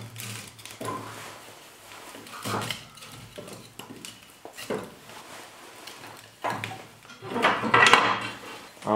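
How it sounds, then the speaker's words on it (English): Wood is loaded into a wood stove used for boiling maple sap, a series of hollow knocks, thumps and clattering bumps at close range, growing louder toward the end. "I'm gonna put a little more wood in the stove."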